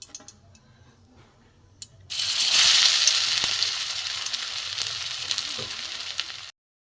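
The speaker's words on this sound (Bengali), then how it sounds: "এখানে আমার এই যে বটবটির ধোকা আমি এবার ভেজে নেবো একটা একটা করে।" Botboti dhoka pieces dropped one by one into hot mustard oil in a kadai: quiet clinks, then a sudden loud burst of sizzling that holds steady for several seconds before cutting off.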